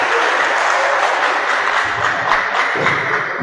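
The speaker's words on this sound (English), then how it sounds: "Let's give her a round of applause." A school assembly audience claps for a student, a loud, dense burst of applause lasting a few seconds with some thumps mixed in.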